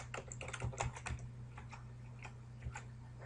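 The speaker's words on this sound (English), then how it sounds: "And then you're going to type your password in." Fingers type a password on a computer keyboard in a quick, close run of soft key clicks over a low steady hum, with no voices.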